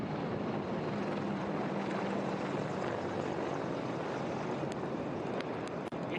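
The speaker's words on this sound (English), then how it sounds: "India gate के ठीक पास पहुंचते हुए अजय फॉर्मेशन में 3 अपाचे हेलीकॉप्टर विक्ट्री फॉर्मेशन में" Three Apache attack helicopters fly in victory formation near India Gate during India's 2025 Republic Day parade, a steady, continuous rotor and engine roar held at constant loudness throughout, with no voices.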